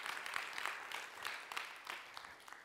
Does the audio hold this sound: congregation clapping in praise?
yes